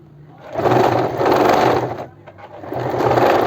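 A sewing machine runs in close, loud bursts while stitching kurti fabric: a whirring run, a second run after a brief pause, a short stop with a few clicks, then a third stitching run.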